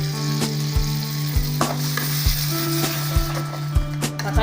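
Ground tomato paste fries in hot oil in a gravy pan, producing a strong continuous sizzle with regular scraping knocks from a spoon roughly every half second, close up with no voices.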